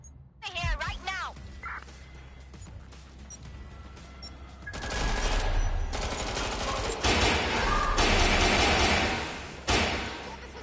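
Bursts of automatic gunfire from Watch Dogs Legion, loud sustained volleys in the second half after quieter game sounds and a brief cat-like yowl, with a voice talking over the top.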